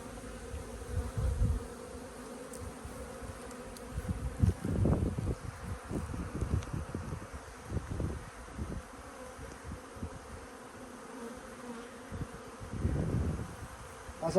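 Honey bees buzz continuously around an open hive as frames are handled during an inspection, a close, dense drone that swells and fades with louder bursts and the occasional thump of equipment.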